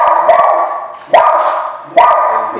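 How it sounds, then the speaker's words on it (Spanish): A dog barks loudly and close by, three sharp barks spaced about a second apart, with a whining tail after each one and nothing else heard. "elimine el ruido de perro"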